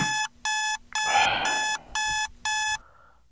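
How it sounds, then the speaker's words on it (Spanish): An alarm clock goes off at 6 in the morning, sounding several loud, evenly spaced electronic beep bursts that stop after the last one and leave a quiet room. "Acaba de sonar la alarma, son las 6 de la mañana"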